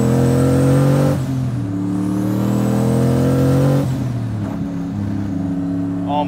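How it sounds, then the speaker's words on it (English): A single-turbo 1999 Mustang GT revs hard, a loud continuous engine roar with pitch rising and dropping between blips, a faint high turbo whistle riding over it, no talk. "Oh my god, the turbo whistle."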